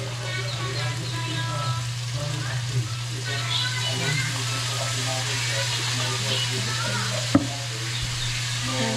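Frying food with soy sauce and black pepper being stirred in a pan, a continuous sizzle over a low steady hum, with scrapes and a sharp clack near the end while a voice talks.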